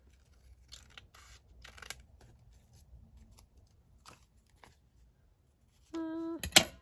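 Scissors trim paper for junk journal filler pages, with a few quiet snips and paper handling, then a louder, sharper cutting burst near the end.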